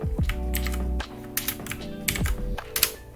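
Close, crisp clatter of computer keyboard keys, a few quick taps and a firmer press of the Enter key, irregular and alone with no voices.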